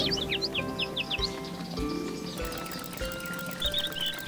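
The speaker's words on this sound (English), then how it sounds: "Whoa, look at those birds. You're finally flying with them, Chirpy." Cartoon birds chirp in a quick series of high tweets early on and again near the end, set against animated music and effects.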